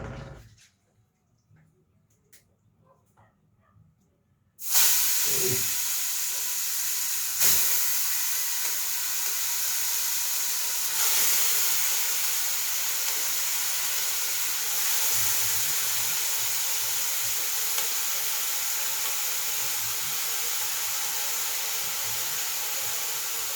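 Beef dropped into a hot pot of Jamaican curry bursts into a loud, sustained sizzle and steamy hiss after a few seconds of near silence, the hiss continuing steadily with faint clinks beneath it.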